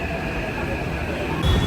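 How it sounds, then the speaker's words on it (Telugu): A metro train arrives at a station with a steady low rumble and a tonal whine, rising slightly louder near the end, heard close by. "మెట్రో ట్రైన్ అయితే వస్తుంది డైరెక్ట్."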